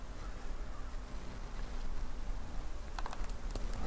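Faint keyboard typing plays under a steady hiss of background noise, with a short burst of sharper key clicks near the end.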